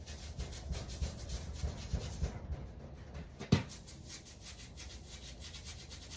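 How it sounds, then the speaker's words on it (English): Scrubber rubbing over the greasy block of an old 5.3L Vortec engine caked with 21 years of oil gunk, a steady close scratchy scrubbing with a sharper knock partway through. "I'm gonna scrub it real quick some more"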